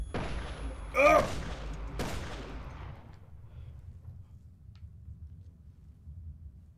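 Gunfire in the horror game Resident Evil: Revelations 2: a loud shot or burst near one second, a second sharp blast at two seconds, then a low rumbling tail over quiet game ambience.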